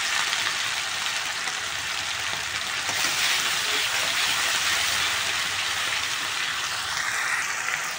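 Spices with salt and turmeric sautéing in a pan, a steady, soft, hissing sizzle that continues evenly throughout with no talk over it.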